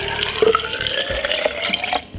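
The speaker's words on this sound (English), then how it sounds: "pour 3/4 glass of water" Water pours from a tap into a glass for a beetroot juice, a close, continuous splashing trickle with rising gurgling tones as it fills.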